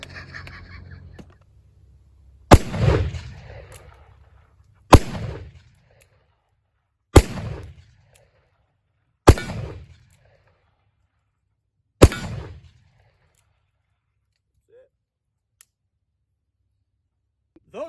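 Uberti 1860 Army revolver firing black powder cartridges, five sharp, loud shots spaced a couple of seconds apart, each ringing briefly before falling to near silence.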